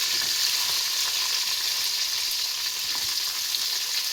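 Onions and green chillies fry in hot oil, a steady bright sizzle with faint stirring scrapes, close and continuous with no talking.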